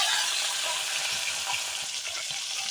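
Green beans fry in hot oil in a wok, giving a dense, steady sizzle that stays loud and close throughout with a faint stirring texture beneath and no voices.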